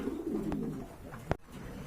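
A pair of pigeons coo softly in a low, murmuring run beneath faint background noise, with one sharp click partway through.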